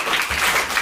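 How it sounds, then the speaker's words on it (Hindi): Primary school children clapping together in a brief burst of applause, a dense patter of many small hands heard close by. "चलिए ताली बजा दीजिए।"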